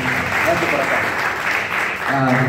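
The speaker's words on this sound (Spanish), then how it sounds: "Tenemos un fuerte aplauso, Señor." Church congregation clapping during a youth testimony service, a steady mass of hands with voices mixed in and a brief dip before it swells again.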